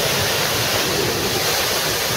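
Strong thunderstorm wind roars steadily near a pond, a dense, constant broadband rush with no breaks, loud and close, with no voices.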